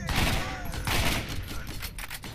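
Revolver gunshots in the Borderlands video game come as a dense, loud barrage blended with game noise and a talking voice, the individual shots smeared together rather than distinct.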